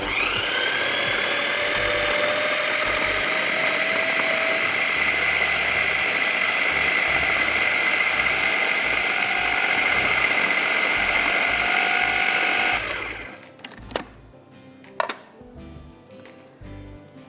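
An electric mixing machine blending a spiced rice mixture for Parsi palav, running as a loud steady whine for about thirteen seconds and then cutting off, followed by a few clattering knocks.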